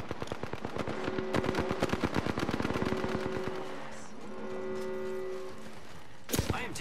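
Rapid automatic gunfire crackles in quick, evenly spaced bursts in Apex Legends as shots strike the player, then gives way to a steady tonal hum and a final sharp impact.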